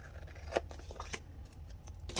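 Scissors snipping paper for a Happy Planner journal page, a few quiet close cuts with sharp clicks of the blades over light background rustle.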